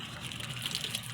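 Water gushes and splashes continuously from a tap while a rescued dog is bathed, a close, steady stream with light spattering throughout.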